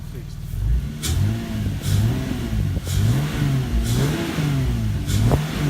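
A Toyota Supra engine idling with rhythmic revs after its alternator was repaired, the mid-pitched engine note rising and falling in repeated waves up close, with brief clicks over it.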